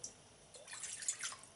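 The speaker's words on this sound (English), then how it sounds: "In a pan, I'm taking some water." Water poured into a pan while making green salsa, a short quiet trickle with soft drips and splashes building over about a second, close by and with no talk.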